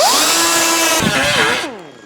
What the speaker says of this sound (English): I'm switching up my grinder, my angle grinder to a thicker disc